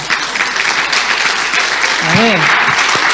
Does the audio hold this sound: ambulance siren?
no